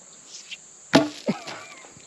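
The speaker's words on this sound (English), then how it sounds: "I just don't know if I'll be able to hit it as good with the sledge" A sledgehammer strikes a stake at a barndominium site during site prep: one sharp, loud blow, then a softer knock a moment later, over a steady high insect-like drone outdoors.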